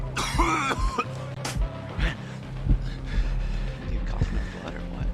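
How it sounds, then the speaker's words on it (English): Several short coughs and throat-clearing sounds during an online shooting game session, scattered among game noises and background sounds. "You coughing up blood or what?"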